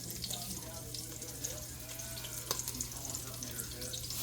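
Four cups of water pour into a cooking pot for rice, a soft, steady splashing trickle over a low electrical hum.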